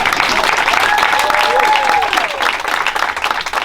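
Audience applause and cheering at a stand-up comedy open mic, a dense steady wash of clapping from a close crowd, loud throughout and easing slightly toward the end.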